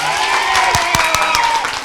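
Children in a class clap for their teacher, a brisk burst of many hands clapping together with a few distinct sharper claps standing out, close and loud, with a voice briefly over it.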